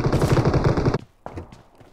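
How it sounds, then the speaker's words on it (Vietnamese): Distant gunfire from a hill in PUBG Mobile: a rapid automatic burst of shots lasting about a second, followed by a short pause and a couple of fainter single reports. "trên đồi kia có tiếng súng kìa"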